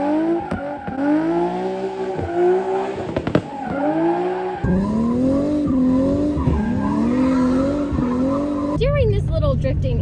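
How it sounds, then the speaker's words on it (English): A 2021 Hyundai Veloster N drifts with tires squealing in long wavering howls over a revving engine, sustained and loud, shifting pitch as it slides, with a voice talking over it. "little drifting intermission"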